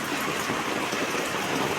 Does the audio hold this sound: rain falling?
yes